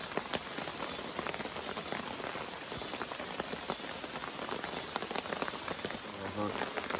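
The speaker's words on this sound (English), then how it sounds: "So I figured I'd bring you guys back so you could hear the rain." Rain keeps falling at a riverside camp on the Uwharrie River, a constant soft hiss of drops with crisp nearby ticks. A brief voice-like murmur comes in near the end.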